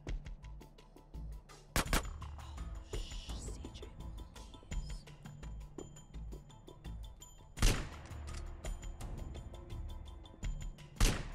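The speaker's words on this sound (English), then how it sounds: "I'm just going to shoot this baby out right here" Gunfire in GTA San Andreas Definitive Edition on PS5: several sharp shots scattered across the clip, two especially loud bursts standing out among game noise, with a player talking over it.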